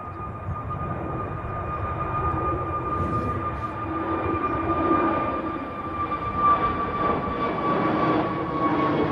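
Jet2 airliner taking off at Manchester Airport, a steady, loud engine roar with a sustained high whine that holds and swells slightly as the aircraft climbs, heard from some distance with no voices.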